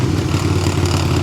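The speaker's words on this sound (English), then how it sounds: "it idles right now" Engine of a 1981 Honda CM200T TwinStar motorcycle idling, a steady low rumbling putter heard close and fairly loud for a brief moment.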